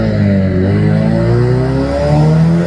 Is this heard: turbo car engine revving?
yes